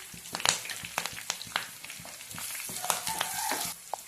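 Curry leaves and turmeric crackle and sizzle in hot oil in a pan for an onion-leaf curd dish in a village kitchen, with sharp pops and occasional stirring scrapes close by and no talking.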